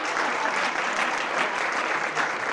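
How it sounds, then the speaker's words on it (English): Dense, steady applause from a luncheon audience for three finalists, a continuous wash of many hands clapping close by with no pause. "Give these 3 a round of applause."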